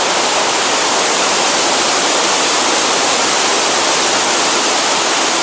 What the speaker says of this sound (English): great falls on the River Clyde